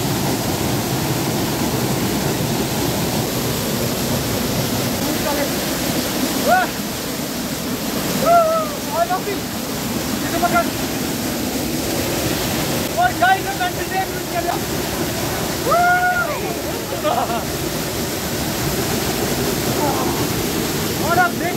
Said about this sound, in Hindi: इसके बाद हम आपको वाटरफॉल दिखाएंगे।